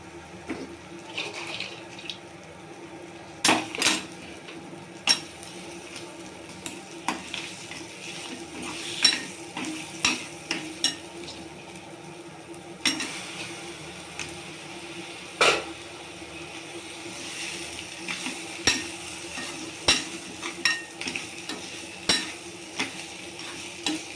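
Crabs tossed into a pan with onion and tomato for a crab curry sizzle steadily while a spoon scrapes and stirs in repeated clattering strokes, close up, with no talking.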